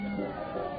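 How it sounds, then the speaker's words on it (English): A cat meows in an old-time radio drama scene, a single short, strained cry heard close and fairly loud over a steady background hiss. "It's a cat."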